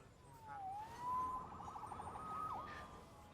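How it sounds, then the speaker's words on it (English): A wailing video game police siren in Marvel's Spider-Man sweeps up and down in pitch, moderately distant and steady over a low background hum. "Saved by the siren."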